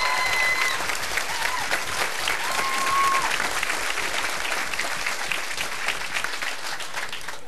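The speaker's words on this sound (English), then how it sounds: "Let's give her a warm round of applause" Studio audience at a live radio broadcast gives a warm round of applause for a guest, dense sustained clapping throughout with a few brief whistles or cheers early on, gradually tapering toward the end.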